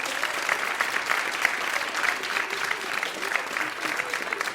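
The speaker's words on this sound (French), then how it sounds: "un tonnerre d'applaudissements pour Jonas" Sustained audience applause at a children's singing-class performance of an Olympus-themed play, with a dense, continuous wash of clapping that holds at an even level with scattered sharper claps.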